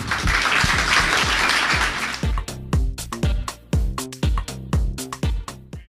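Audience applause greeting a speaker at a German e-commerce expert talk, a dense wash of clapping for about two seconds that then thins into scattered individual claps.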